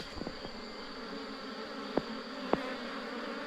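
Honey bees buzz at the entrance of a hive box with drones emerging, a soft steady insect hum with a few louder passes of individual bees flying close by.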